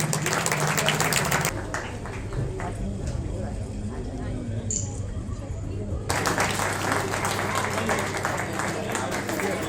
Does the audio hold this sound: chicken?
no